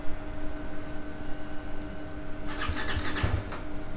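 A mud-caked motorcycle, readied for a monsoon ride, cranks and its engine catches after a steady noisy stretch, with several short bursts of firing in the final second and a half.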